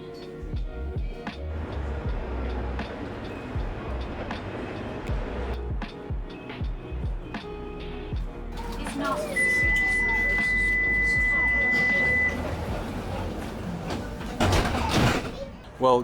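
Busy Nottingham Express Transit tram platform at Nottingham Station, with mixed rumbling, door and chime sounds, a steady electronic tone partway through and a loud burst of tram noise near the end, under ongoing chatter.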